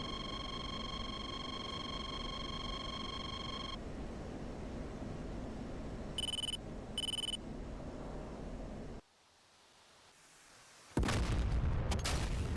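Wingman fires a missile in a DCS F-16 flight simulation over Syria, heard as loud roaring rushes and short tonal warning bursts inside a constant cockpit hum, then a brief drop to near quiet before a loud rush returns.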